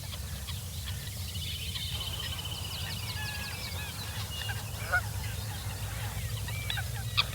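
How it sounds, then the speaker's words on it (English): Geese and other waterfowl honk repeatedly across open fen wetland. The calls are scattered and mid-distance over a steady low rumble, with no voices. "One of the most striking features of the Fens are the waterfowl, and the variety is staggering."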